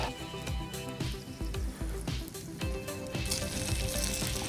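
Chicken and sauce sizzle and crackle in a pan over an open fire outdoors. The frying is loud and continuous, with frequent small pops and hisses throughout.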